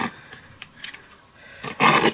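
Scissors trim the edge of a strip of fabric or paper in a few short, close snips and rasping cuts, ending in a louder burst of cutting.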